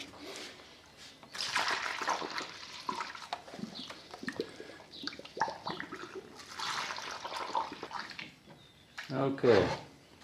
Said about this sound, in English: And then we'll take our distilled water.